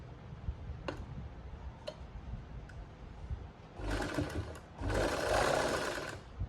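A sewing machine stitching along the edge of a strip of fabric, with a few sharp ticks followed by two bursts of whirring motor run, close and fairly loud.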